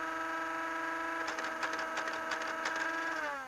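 A Light Command toy dart blaster runs on full auto, its flywheels whining in a steady high hum while the pusher mechanism clicks rapidly in the middle, then the whine winds down at the end.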